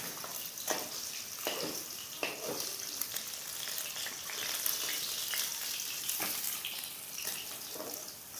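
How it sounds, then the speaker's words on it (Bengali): Fish sizzle steadily in hot oil in a pan during home cooking, a continuous close hiss with occasional spatters and stirring scrapes, no talk. "আরও দুটো মাছ আছে, এগুলোকেও ভেজে নিচ্ছি।"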